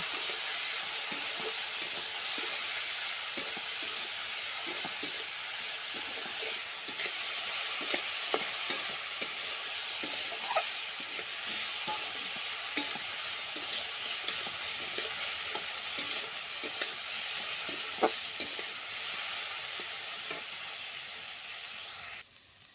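Leaves fry in an oil-filled pan for a long stretch, giving a steady close sizzle broken by frequent scraping clicks from a spatula stirring them. No one speaks.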